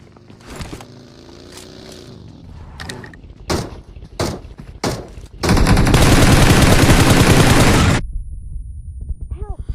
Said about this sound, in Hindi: क्योंकि यहाँ पर फायरिंग वगैरह चल रही होती है